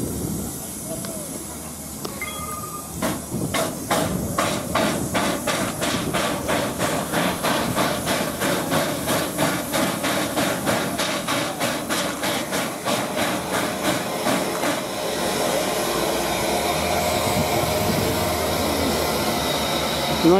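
Steam locomotive SR 34052 Lord Dowding at Cardiff Central station gives off a continuous hiss with a rapid, regular train of sharp beats through the middle, then settles back into steady steam noise; voices are faintly present.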